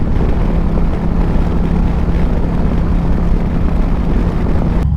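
An Indian Challenger Powerplus motorcycle fitted with performance 530 cams, ridden hard through the gears, a loud, constant engine drone with a low steady hum, heavily buffeted by wind noise and cutting off abruptly near the end.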